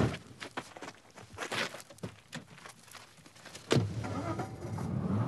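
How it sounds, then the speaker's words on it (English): A car pulls away and drives off fast during a staged armed carjacking, the engine and road noise rising sharply partway through after a stretch of door and movement sounds, close and fairly loud. "The car drove off at speed."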